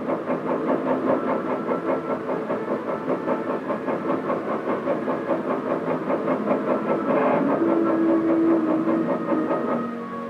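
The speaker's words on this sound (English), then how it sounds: "tank engine is started and operated from the control room." Tank engine running in an enclosed test chamber, a steady droning rumble with rhythmic pulsing throughout, loud and continuous with no talking.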